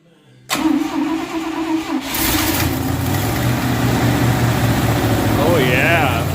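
A 1962 Dodge D200 semi hemi truck engine cranks, catches and settles into a loud, rough, steady idle close by, with a leaky exhaust manifold adding a raspy edge.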